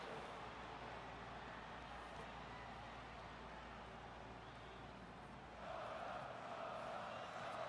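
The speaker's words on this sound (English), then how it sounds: "Crowd is chanting for Solo," A virtual arena crowd in the wrestling video game WWE 2K24 chants for a wrestler, a dense, continuous wash of distant crowd noise that swells slightly louder near the end, with no talk over it.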